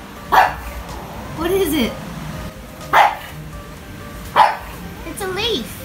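A dog barks in sharp single yips at a flower petal, several short barks spaced a second or so apart, close by, with a person's soft speech in between.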